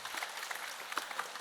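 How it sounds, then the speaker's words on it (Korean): A short burst of audience applause at a Dharma talk at Jogyesa temple, brisk and dense clapping filling the brief moment on its own. "박수를 쳐주시죠"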